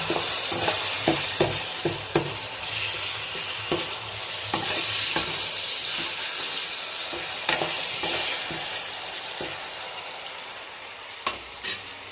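Chicken fries with a steady sizzle in a pan for an Odia-style chicken curry, while a utensil stirs and scrapes it in repeated sharp clicks and knocks, close and alone with no talking.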